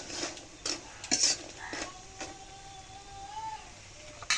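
Bitter gourd and lentil bori dumplings stir-fried in oil, with a metal spatula scraping and clinking against the pan in scattered strokes over a soft, low sizzle.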